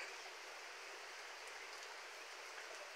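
Steady rain falls outdoors in the countryside during a brownout, a soft, even hiss of drops on surfaces with no talk, faint and continuous throughout.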